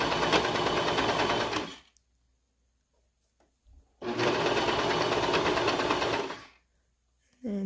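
A sewing machine stitches a neckband onto a sweater dress in two loud, steady bursts of rapid whirring, separated by a quiet pause with small handling sounds, and a third burst starts right at the end.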